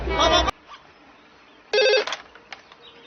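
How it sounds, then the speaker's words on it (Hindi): A telephone rings in two bursts of a bright electronic ringtone, loud and close, with a quiet gap between them and a few faint knocks in the background. "आदि फोन नहीं उठा रहा तू?"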